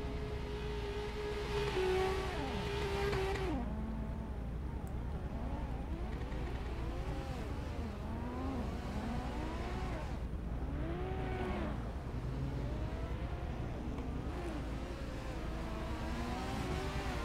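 Steady engine drone from a car in the Assetto Corsa racing game during drifting, with rising and falling revs and a high whine early on, moderately loud and continuous, and no talking.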